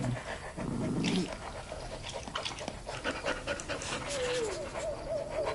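A dog in the video game Hello Neighbor 2 pants rapidly and close by, with a brief growl-like rumble near the start and faint game tones underneath.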